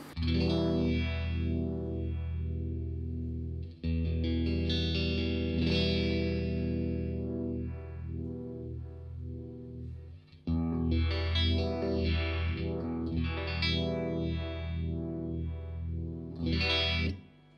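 Electric guitar through a Uni-Vibe pedal with depth raised, giving a thick, throbbing, swirling modulation over sustained chords and single notes, loud and close with a brief gap near four seconds.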